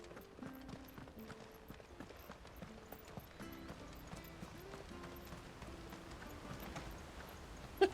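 Horse hooves clip-clop at a steady, rapid trot near the stables in a video game, quiet and continuous, with a sharp knock at the very end.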